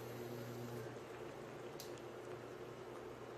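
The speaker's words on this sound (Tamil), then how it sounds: "அந்த தண்ணி கொதிக்க ஆரம்பிச்சிடுச்சு" A covered pot of water for wheat kali comes to a boil on the stove, giving a faint, even bubbling simmer with a soft high fizz and no speech.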